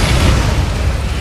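Ion cannon blast in the C&C Rivals strategy video game, a loud, deep booming explosion with a sustained rumbling roar filling the short moment, no speech.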